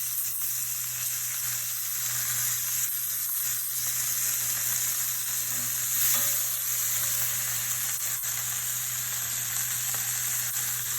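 A steak searing in a very hot pan on a smoky stovetop gives a steady, close, loud sizzle and crackle with a constant hiss that runs unbroken throughout.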